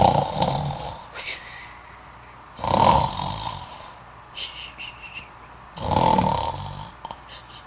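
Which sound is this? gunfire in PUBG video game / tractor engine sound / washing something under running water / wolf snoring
wolf snoring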